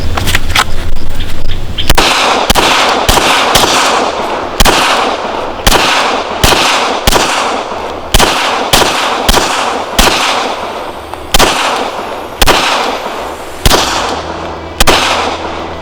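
Loud, close gunshots in a low-round-count shooting drill, about fifteen sharp cracks in quick groups with brief pauses, each followed by a short decaying echo.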